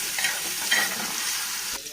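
Chicken liver and kandanakaya sauté in a pan, a continuous close, loud sizzle with brief stirring scrapes and no talking.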